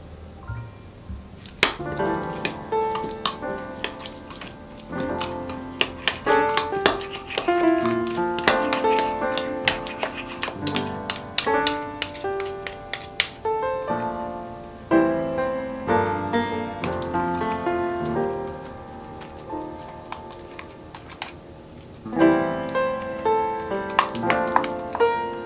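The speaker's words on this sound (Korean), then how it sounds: "양념이 잘 섞이도록 살살 버무려 주세요." Spring cabbage and wild chive salad is tossed with seasoning in a bowl, producing irregular clinks, taps and wet mixing sounds that continue in bursts throughout at moderate volume.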